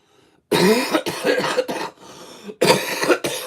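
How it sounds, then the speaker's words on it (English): Several harsh, loud coughs in quick succession, close to the microphone, with a brief throat-clearing rasp between bursts. "Such a badly timed cough."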